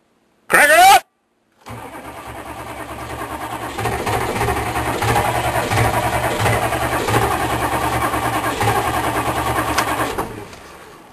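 A Chevrolet K3500 truck engine cranks and catches on a cold start after a brief sharp burst, then runs loudly and steadily with rough, rattling idle for several seconds.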